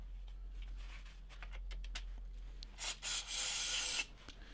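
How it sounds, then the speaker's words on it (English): Carb cleaner sprays into a diesel injector removed from a 2009 MINI Cooper, heard as a few short hissing bursts and then one longer spray, close up over light handling noises. "So I'm trying to get the carb cleaner down inside this injector."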